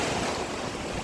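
Ocean surf at an Italian beach, a steady broadband wash of breaking waves and water churn filling the whole moment, loud and close with no voices.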